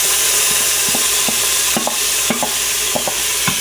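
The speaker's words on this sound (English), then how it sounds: "So I'm going to add the Moong Dal." Rinsed, drained moong dal hits a pan of golden garlic, a loud continuous sizzle broken by repeated scraping stir strokes at a steady rhythm.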